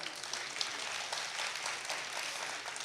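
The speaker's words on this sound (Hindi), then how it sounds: "एक बार तालियां बजा दीजिए आप।" Audience applause at a kavi sammelan poetry gathering in Katni, a steady broadband wash of clapping with no voices, moderately distant and even throughout.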